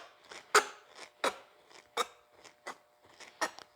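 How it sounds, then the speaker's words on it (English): Snips cutting carefully through a metal car body panel on a 1951 Ford give a series of sharp, close, irregular metallic clips and crunches, with brief pauses between cuts. "I'm going to cut very carefully"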